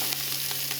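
Thyme and peppercorns with a pinch of salt sizzle loudly in a hot pan while being stirred, a dense continuous hiss with faint scraping pulses over less than a second.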